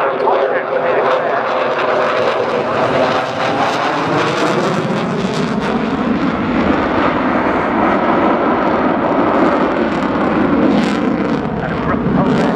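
A Boeing F/A-18 Super Hornet jet roars loudly and steadily through a high-G turn during an airshow display at RIAT, its engine noise filling the air while a commentator talks over it.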